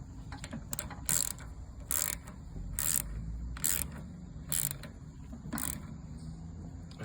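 Ratcheting clicks from a wrench tightening a carburetor screw on a snowblower during a Honda-style carburetor rebuild, six bursts of close mechanical clatter at a steady pace with a low hum beneath.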